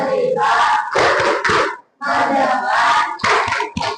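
A group clapping in rhythm during a class clapping chant at a school guidance session, sharp hand claps punctuating loud unison chanting voices in short bursts with a brief pause midway.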